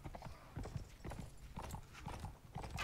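Horse hooves clip-clop in quick irregular beats in the video game Mount & Blade Warband, moderately close and fairly soft, with battle noise faintly around them.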